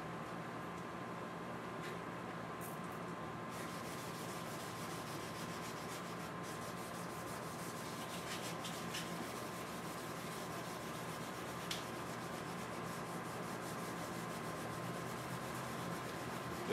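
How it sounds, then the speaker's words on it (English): Hard foam sanding block rubbed by hand over a resonator guitar body kit during finishing, giving a steady, continuous scratchy rasp of moderate loudness with no speech. "Got some great little hard foam blocks here that make great little sanding blocks."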